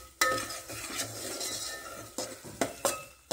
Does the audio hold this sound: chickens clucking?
no